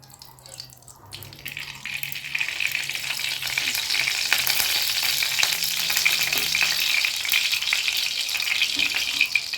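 White cooking oil heats in a hot kadai before potato chips are fried, building from quiet into a steady, bright sizzling hiss that stays loud and even to the end.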